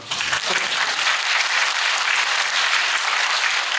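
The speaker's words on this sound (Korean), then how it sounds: "박수 한 번만" Residents clap at an apartment reconstruction information meeting, a dense burst of applause that swells quickly and holds steady to the end.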